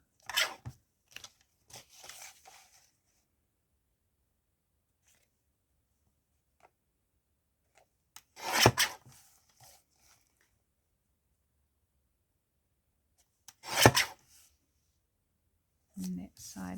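Scissors cut out a paper journal card in a quiet room, a few separate crisp snips and rustles spaced by long silences, with a short voice near the end.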